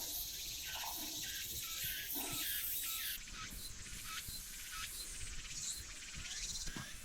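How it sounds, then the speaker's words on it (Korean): Loud, steady high-pitched cicada buzzing drones on without a break on a hot mountain trail, a dense outdoor chorus with a few faint chirps mixed in. "매미 소리 한가지?"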